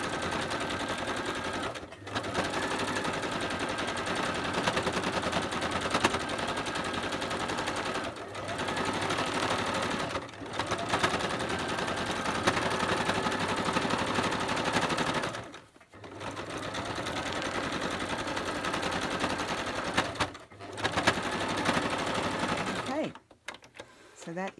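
A sewing machine stitches back and forth across a paper snippet roll for a junk journal, rattling in long rapid runs broken by a few brief pauses, close and steady with no voice over it.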